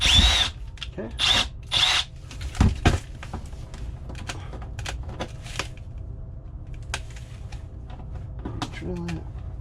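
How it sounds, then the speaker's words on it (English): Short, loud bursts from a power drill sound close by as a sensing bulb is mounted on a wall inside a walk-in freezer. Quieter clicks and handling noises follow the bursts. "Drill it."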